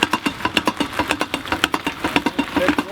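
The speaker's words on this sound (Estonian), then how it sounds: "Mootor käis korra vahel." A car engine labours in uneven, knocking bursts, running intermittently with irregular pulses of loud chugging across the few seconds.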